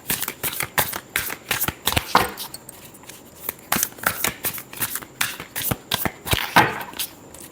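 A deck of tarot cards is shuffled up close, a rapid series of sharp, papery flicks and slaps with a few louder bursts, steady and uninterrupted by speech.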